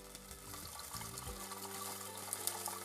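Water streams into a pot of fish soup with tomato, a close, continuous pouring and splashing sound over a low background hum.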